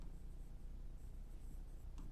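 Marker or chalk strokes scratch across a board while maths is worked out in a class 10 arithmetic progression lesson, producing faint, close, continuous scribbling with brief pauses between strokes.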